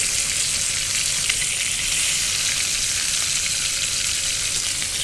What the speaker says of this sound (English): I'm ready for the sizzle. It's sizzling.